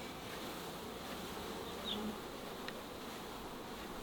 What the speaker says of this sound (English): We are releasing the bees